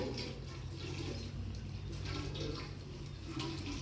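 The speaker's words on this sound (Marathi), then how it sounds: "आता हात स्वच्छ धुवायचे पाण्याने" Hands are washed under running tap water: a steady, continuous splashing stream, close and even throughout, with no speech.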